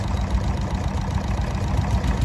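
A small Fendt tractor engine runs steadily nearby at a tractor rally with a low, throbbing idle and no voices.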